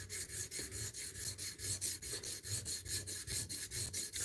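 A Japanese-style blade is polished on a sharpening stone, grinding material at the tip with rapid, even back-and-forth rubbing strokes, several per second, close and clear with no talking.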